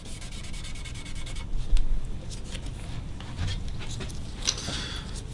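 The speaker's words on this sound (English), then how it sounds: "The trick will be the steel wool to pull out what's going green." Steel wool rubbing across guitar binding made with Gluboost tape, a steady close scratchy abrasion that runs continuously with slight swells in intensity.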